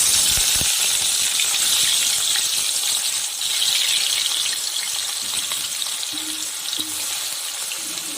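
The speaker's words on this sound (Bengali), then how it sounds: "তেল গরম হয়ে গেছে, এখন মাছগুলো দিয়ে দেব" Fish sizzle and spit in hot oil in a kadai, a steady loud hiss of frying that runs the whole time with crackling bursts and no talk.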